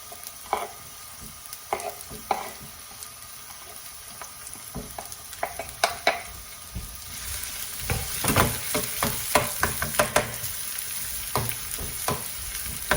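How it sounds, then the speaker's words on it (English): Onions sizzle in a pan over medium heat for shakshuka, a steady soft frying hiss broken by scattered clicks and scrapes of stirring that grow busier toward the end. "I'm then going to add the onions into here, so let this cook."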